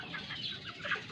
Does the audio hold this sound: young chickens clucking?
yes